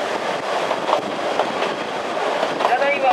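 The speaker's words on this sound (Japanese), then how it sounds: "列車は山の中を走っていますので" An Oigawa Railway Ikawa Line train runs through mountains, its wheels rumbling and clattering steadily with occasional faint squeals, heard from inside the carriage while an announcement plays over it.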